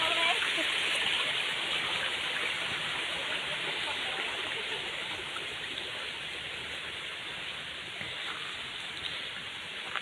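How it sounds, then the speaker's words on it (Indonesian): A river stream flowing near a remote rural house in Indonesia gives a steady, dense rushing wash of water that stays fairly loud and unchanging throughout. "Di depan kayaknya ada sungai teh."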